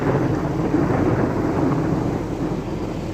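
A steady, deep rumble of thunder rolls continuously, broad and fairly loud, with no voices.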